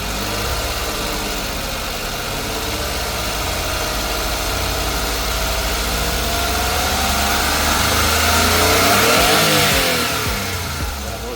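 Suzuki DA64V 4x4 automatic semi-wagon engine running close by, a steady idle that builds into a sustained rev and then eases back down.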